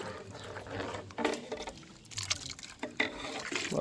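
Water is poured into a cooking pot for a Kathiyawadi chapdi undhiyu, with irregular splashing and gurgling bursts, fairly faint and close.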